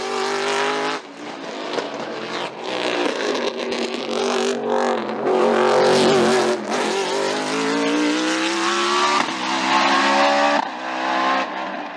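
BMW M3 E92 race car at full pace in a French mountain hill climb at Limonest–Mont Verdun, its engine screaming loudly and continuously as it revs up and down through gear changes, close by and dominant.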